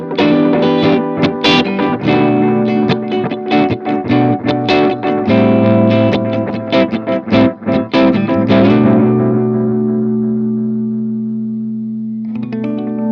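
An electric guitar runs through a delay pedal set near feedback oscillation. Dense, rapid strummed chords stack up into thick, distorted repeats, then a long sustained wash slowly fades before a brief new burst of playing.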